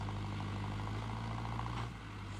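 A tractor in 4x4 gear pulls out of mud with a steady, loud diesel engine drone. The rumble holds close and constant, then eases slightly near the end.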